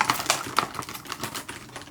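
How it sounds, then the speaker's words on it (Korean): Rapid clicking of a computer keyboard being typed on close by, in a steady run of keystrokes at a PC room. "옆에서 키보드 소리가 좀 많이 들리죠?"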